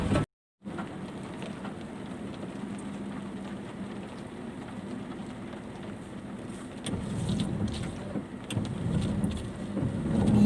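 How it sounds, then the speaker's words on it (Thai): Steady rain falls and patters on surfaces at a reservoir fishing spot, a constant wash of sound that grows heavier toward the end, with a few louder drips. "ฝนก็ตก"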